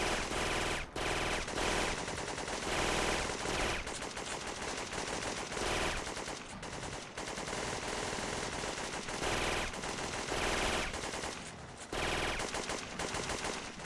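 Sustained automatic gunfire in a video game, with dense rapid bursts rattling almost continuously and only a few short breaks, loud and close throughout.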